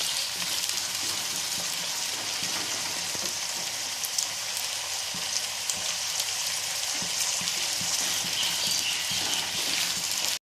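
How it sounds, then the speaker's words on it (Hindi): Thickly cut potatoes sizzle in a pan on medium heat, frying to golden for karela aloo sabzi in a dense, steady crackle with scattered pops, close and constant throughout. "इसको हम मीडियम आंच पे अच्छे से फ्राई कर लेंगे गोल्डन होने तक"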